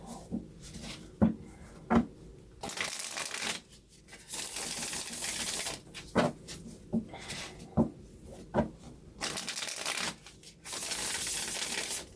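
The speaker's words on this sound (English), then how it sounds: "The most shuffleable deck ever." A deck of playing cards is shuffled repeatedly, bursts of riffling and bridging alternating with sharp taps and knocks as the cards are squared, close and fairly quiet, with no talk.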